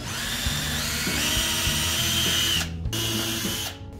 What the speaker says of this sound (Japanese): まずはドリルでちょっとガイド穴開けておきます。